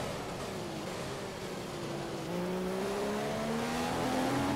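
An F1 race car in the F1 2015 video game accelerating out of a corner, its engine pitch rising steadily and loudly over several seconds, with engine whine and tire noise and no talking.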